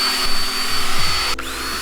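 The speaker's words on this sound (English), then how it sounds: "Drill the remaining 14 holes in your bumper" Power drill boring holes through the plastic front bumper of a Mk7 VW GTI, a steady loud whirring that cuts out abruptly near the end, with no one talking.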